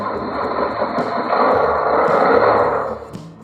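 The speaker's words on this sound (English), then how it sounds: "This is a car, racing car." A racing car engine sound from a small RC truck's electronic sound module, a continuous synthetic engine drone that swells in the middle and then tapers off, close and fairly loud.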